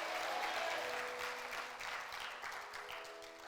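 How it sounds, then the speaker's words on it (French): A church congregation applauds during a French-language sermon, a dense, steady wash of many hands clapping that fills the space and fades slightly toward the end, with no voices over it. "Là, vous avez bien applaudi."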